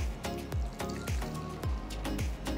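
A small cup is filled with a poured milk and curd mixture, giving a series of regular soft liquid splashes and drips close by, with no talk.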